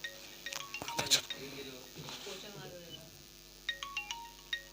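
Mobile phone ringtone plays during a physics class, a melodic electronic tune with tinkling notes, fairly loud and close at the start, then fading. A few repeated chiming tones return near the end over a quiet room.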